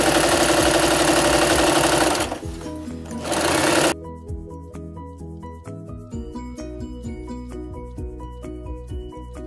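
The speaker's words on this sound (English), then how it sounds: "sew a straight stitch all the way down along my fabric." A cheaper home sewing machine runs a straight stitch down fabric cushion covers made from Ikea swatches, a loud steady whir for about four seconds before dropping to a quieter, rhythmic clicking mechanical patter.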